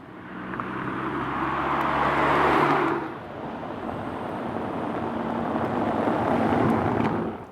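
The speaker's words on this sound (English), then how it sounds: "to see something of the acceleration that this engine is capable of" A VW Golf 8 with the 1.5 TSI mild-hybrid engine accelerates on the road, with a steady broadband engine and road roar that swells, dips briefly, then builds again. No one speaks.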